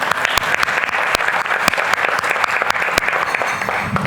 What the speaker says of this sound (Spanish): Por favor, un fuerte aplauso para nuestra comisionada.